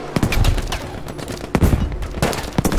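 Dense, continuous gunfire in Battlefield V, a World War II shooter, with many rapid overlapping shots and bursts, some close and loud, others more distant, over a steady rumble of battle noise with no voices.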